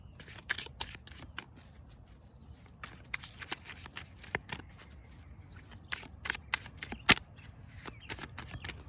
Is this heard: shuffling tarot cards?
yes